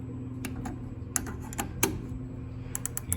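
Ratchet tool clicking while tightening a door roller, a run of sharp close ticks at an irregular pace, some clicks louder than others, over a low steady hum.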